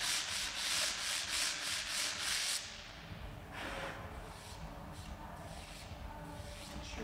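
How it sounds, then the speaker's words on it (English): A handheld sanding block rubbed back and forth over wooden climbing holds to smooth off burrs, a steady rhythmic scraping that is loud and dense for the first few seconds, then lighter, intermittent strokes with brief pauses. "So we just need to sand all these burrs off."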